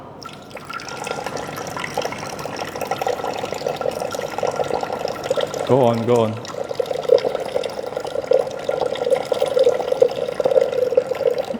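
Filtered water, about 260 grams, is poured into a Thermomix mixing bowl during a cooking demonstration, making a steady running, splashing pour under close conversation.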